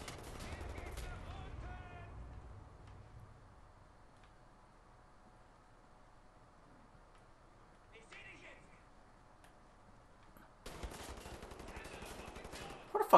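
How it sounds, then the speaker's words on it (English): Bursts of automatic gunfire from the shooter game Wolfenstein: The New Order open and close the stretch, with a quieter gap between, faint distant shots and a player's voice talking over it. "Where the fuck are these pricks shooting me from?"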